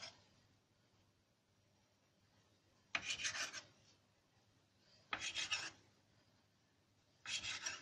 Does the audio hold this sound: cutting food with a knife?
yes